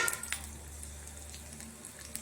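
Mustard seeds, chana dal, urad dal, cumin and fenugreek sizzle faintly in hot tempering oil, a soft steady crackle with a few brief pops near the start and no talk.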